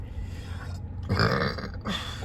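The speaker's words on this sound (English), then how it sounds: "confirmation burp" A single short, low burp sounds close by, rumbling briefly in the middle of an otherwise quiet moment.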